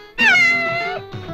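A domestic cat gives one long, loud, close meow followed by a shorter second call, heard alone with no talk over it.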